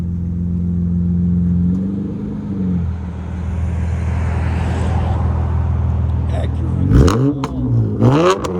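A 2007 Acura TL Type S with a 3.5L V6 and a Vibrant resonator exhaust idles with a steady low drone, then revs sharply twice near the end, the engine rising and falling under a rushing background.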